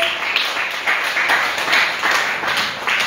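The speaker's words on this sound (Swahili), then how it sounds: "Tuwapigie makofi wana praise." Church congregation clapping for the praise team, a steady crowd applause with rhythmic bursts filling the room, loud and continuous with no talk over it.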